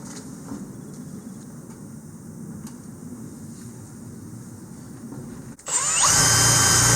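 A power drill drives a self-tapping screw while a Navy flag is mounted, a steady motor whir at first that ramps into a loud, high-pitched whine in the last second, heard close with no speech.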